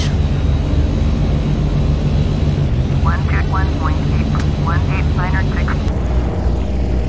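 A four-jet BAe airliner in Flight Simulator X rolls for takeoff, giving a loud, steady engine roar that fills the whole stretch, with a person talking over it in places.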